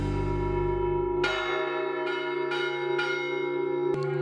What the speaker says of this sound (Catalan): Els campaners de la Catedral de València ofereixen després de 90 anys un concert de campanes